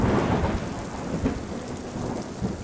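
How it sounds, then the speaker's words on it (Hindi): Heavy rain pours steadily with low rumbles of thunder, a dense unbroken wash of sound with no voices. "पूरी रात बहुत जोरों की बारिश होती रही।"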